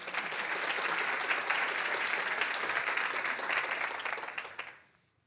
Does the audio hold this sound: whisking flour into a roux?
no